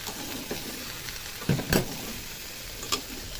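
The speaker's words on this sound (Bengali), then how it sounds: "দিয়ে সবজিটাকে কিছুক্ষণ আমি ভেজে নেব" Vegetables frying in a pan with salt and turmeric, a steady low sizzle with stirring scrapes and a few louder bursts near the middle and end.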